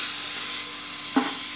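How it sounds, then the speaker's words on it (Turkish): Refrigerant gas hissing steadily from a leaking aluminium air conditioner pipe that has burst under pressure, a loud continuous close hiss with a brief knock partway through. "Klimada kaçak var."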